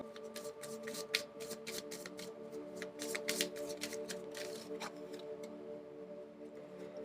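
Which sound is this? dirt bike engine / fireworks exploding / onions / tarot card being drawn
tarot card being drawn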